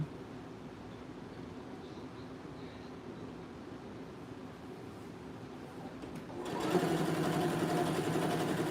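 A sewing machine hums quietly at first while stitching a skirt seam, then speeds up into a louder, steady whirring run near the end, heard up close.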